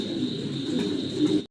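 A single cream-bar Danish pigeon coos close by in a steady, continuous low burble that runs unbroken for about a second and a half, then stops abruptly.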